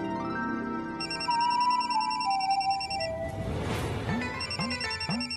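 A telephone rings in a home setting with a repeating electronic ringtone melody, loud and close, its tones looping with rhythmic pulses and some background music layered beneath.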